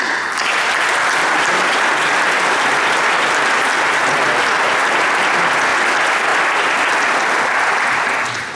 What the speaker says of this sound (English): please just give them an applause